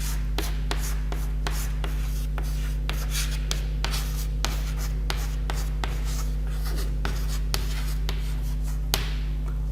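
Chalk or marker writing on a board during a history lecture, a string of quick scratchy strokes and taps close by over a steady low electrical hum, no speech.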